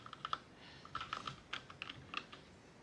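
Keys on a James Donkey 619 mechanical keyboard clicking in short irregular bursts, crisp near taps at a quiet level, with no voices.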